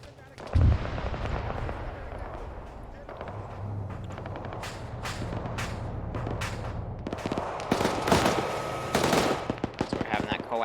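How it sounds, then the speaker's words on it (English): A BMP's coaxial machine gun fires in a military video game: bursts of automatic gunfire crackle and rattle amid distant booms, growing denser and louder toward the end, with someone speaking over parts of it. "So we're having that coaxial firing off"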